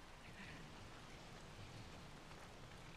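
Rain falls steadily in the video game Days Gone, a continuous soft hiss of drops on surfaces filling the whole stretch with no breaks.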